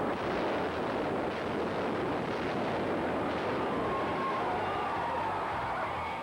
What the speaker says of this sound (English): Mel Gibson was our host for this incredible explosion in Lethal Weapon 3.